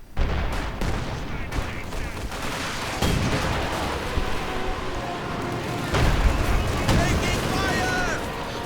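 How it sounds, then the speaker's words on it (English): Artillery fire of all kinds pounds a battlefield in a WWII strategy game, a dense continuous barrage of booms and gunfire with heavier blasts around three and six seconds in, under commentator talk. "And artillery going in of all kinds, forcing a full retreat here from the centre."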